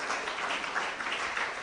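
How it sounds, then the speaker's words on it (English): Audience applause at a fertility awareness campaign event in Kenya, a steady wash of clapping heard from a distance, fairly faint and sustained without voices. "Let's have a bigger applause for New Life Home Trust."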